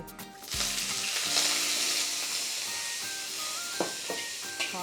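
Loud, steady sizzling of Jinhua ham frying in hot oil in a wok, a dense hiss that flares right at the start and continues throughout.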